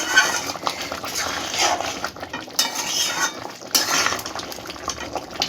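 Chicken masala with ghee is stirred in a pot, giving intermittent scraping and clinking strokes against the metal over a faint background sizzle, with a few sharper bursts between quieter moments.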